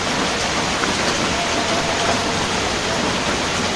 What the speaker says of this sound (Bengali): বৃষ্টি আজকে আর যাবে না